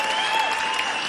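Audience applause at a live Irish traditional music concert, a steady dense wash of clapping from a full crowd, continuous and loud throughout.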